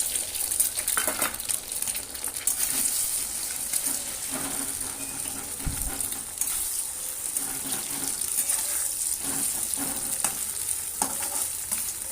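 Egg frying in a pan and being stirred into scrambled bits, a steady close sizzle with scraping and stirring noises, no one speaking.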